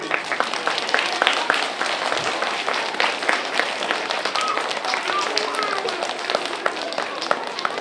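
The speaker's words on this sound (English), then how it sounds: "Okay, you can clap now" An audience applauds after a short oboe piece, a dense, steady wash of many hands clapping at once, fairly close and full, with some voices mixed into the crowd.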